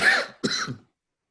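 Two quick, harsh coughs close to the microphone, the second slightly deeper, followed by silence.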